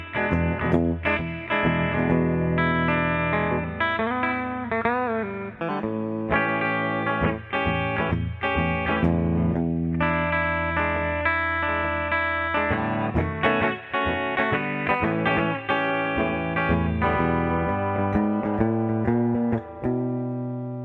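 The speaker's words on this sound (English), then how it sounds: "The original pickup, bridge pickup, sounds like this." Ibanez AG86 guitar through its original bridge pickup, a thinner, weaker tone, strumming chords and picked notes steadily with effects and distortion, loud and continuous with no voices.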